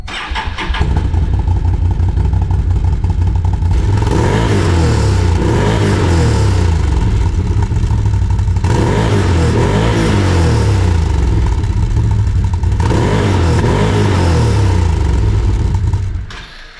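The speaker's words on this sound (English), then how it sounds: "let's go ahead and hear how the Titan QS sounds at idle, as well as getting a few revs in" A loud, close Can-Am Titan QS engine with an aftermarket performance exhaust idles with a deep exhaust burble, then revs up three times in long surges, each falling back to idle before cutting off.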